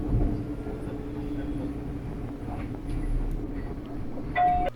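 Inside a crowded LRT light rail train in Manila, a steady low rumble of wheels and carriage hum continues throughout, with a brief squeal or chime near the end.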